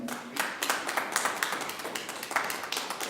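A church congregation claps in scattered, uneven bursts, moderately near and somewhat thin, with sharp individual hand claps standing out.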